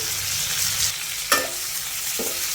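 Garlic and curry leaves fry in hot oil in a pan, giving a steady close sizzle with two sharp crackling bursts as the leaves go in and are stirred.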